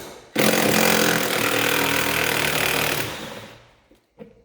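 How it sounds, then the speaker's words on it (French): An electric drill backs out screws from a Tesla mudguard, a loud close whirring run of about three seconds that winds down, followed by a brief quieter burst. "Drill électrique, bien pratique,"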